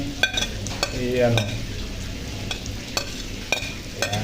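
Chopped garlic sizzles in a hot pan while being cooked for laing, a Filipino taro-leaf dish, with sharp stirring scrapes and clinks of a utensil over a steady crackle; someone says a brief word.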